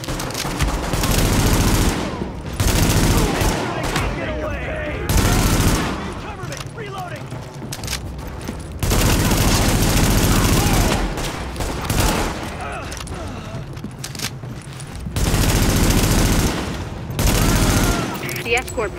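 Sustained bursts of automatic gunfire from a rooftop gunner in The Division, pounding in loud waves with short lulls between volleys, close and dense throughout.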